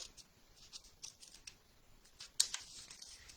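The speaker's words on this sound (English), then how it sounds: "I'm just going to cut a square" Scissors snipping a paper square for a smash book page, faint, close and quiet, a few light irregular cuts with one sharper snip near the end, no talking.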